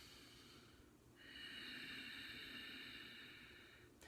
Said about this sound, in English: close your mouth, inhale